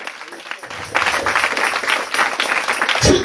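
A church congregation at an evening service in N'Douba, Côte d'Ivoire, breaks into sustained, dense applause and cheering that swells after a brief quieter start and continues steadily, with voices mixed into the crowd noise.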